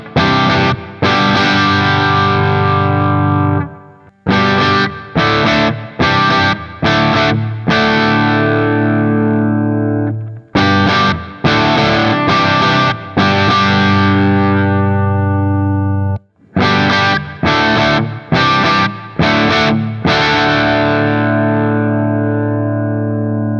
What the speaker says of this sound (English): So you can hear that there's a pretty big difference between the two guitars.